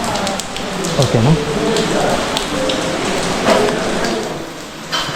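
Steady rain patters down at the old-architecture Kukke Subramanya temple in Karnataka, a dense, even hiss of falling drops close by, while a person speaks briefly over it.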